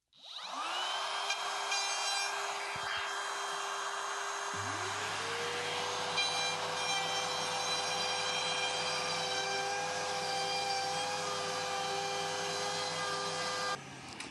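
Wood router starting up and running steadily on a router table, a loud continuous whine with a low motor hum that holds for over ten seconds before cutting off at the end.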